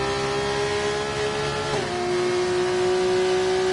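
An F2 race car at Monza runs flat out at full speed, its engine holding a loud, steady high-pitched whine that shifts pitch slightly partway through.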